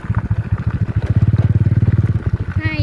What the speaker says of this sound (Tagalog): Kasi ang liit ng motor